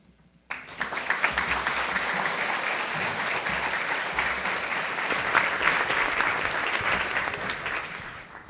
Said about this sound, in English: How about another round of applause for the DNI?